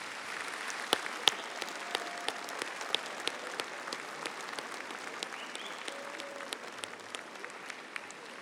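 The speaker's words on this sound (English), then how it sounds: "give them a round of applause to show your appreciation" Graduation ceremony audience at Auburn University applauding families and friends, a broad, sustained wash of clapping from a large crowd with sharper individual claps standing out, steady and fairly distant.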